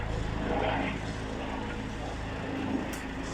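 A helicopter hovers over a fire scene attended by three fire crews and three police crews, its steady broadband engine and rotor drone loud and continuous, with no voices heard.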